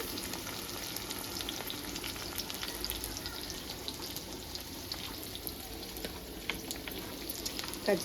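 Green chilies, garlic and chopped onions fry in a pan with a quiet, steady crackling sizzle, dotted with tiny pops and light stirring ticks, no talking.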